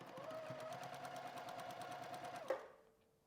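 A sewing machine runs steadily for about two and a half seconds, chain stitching quilt pieces for courthouse steps blocks, a rapid even needle rattle that stops with a short clunk, then fades out.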